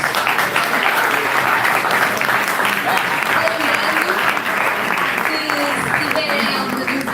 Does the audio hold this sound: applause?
yes